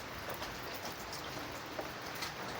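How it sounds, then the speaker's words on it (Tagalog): Steady rain falls and patters on surfaces nearby, a soft continuous hiss with occasional louder drops. "Yung ulan na yun, hindi na talaga tinitigil."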